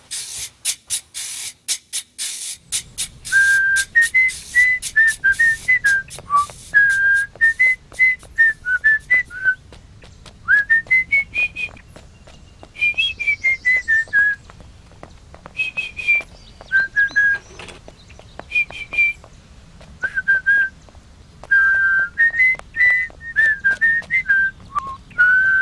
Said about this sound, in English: Nice whistling, son.